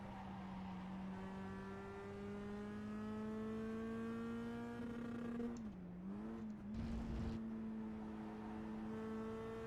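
A Mazda Cup car driven on a slow lap of Laguna Seca in iRacing: a steady droning engine note that rises gradually, dips and wavers briefly during a gear change, then settles back into an even hum.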